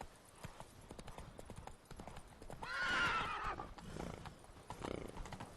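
Roach, the horse in The Witcher 3: Blood and Wine, lets out a loud whinnying neigh over steady clip-clopping hooves while being ridden, with faint game sounds around it.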